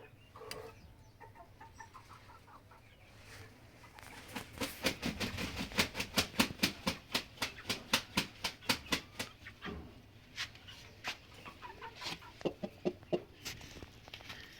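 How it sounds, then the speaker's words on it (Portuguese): Fighting rooster of the Tomaru breed, kept as an attack bird, giving a long run of sharp, rhythmic clucks up close, with quieter calls at the start and a few more scattered toward the end. "Olha aí, é o galo Tomari."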